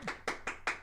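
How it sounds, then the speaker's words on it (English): Four sharp hand claps in quick, even succession, close and fairly loud, with no talk. "I bet you that's like real loud in their ears right now, you clapping"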